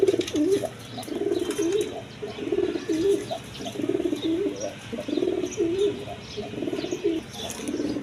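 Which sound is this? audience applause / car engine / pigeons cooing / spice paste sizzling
pigeons cooing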